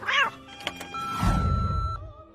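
A house cat gives a short, clear meow up close, followed by a light thunk and faint room noise.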